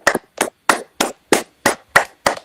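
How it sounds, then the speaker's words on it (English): A small group claps for one another eight times in short, evenly spaced bursts, each a quick flurry of close, sharp hand claps, with no talking between them. "Clap it up for each other."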